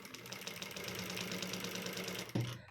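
A sewing machine runs steadily while stitching a dori stitch, giving a close, fast mechanical whir and knocking that stops abruptly with a thud near the end.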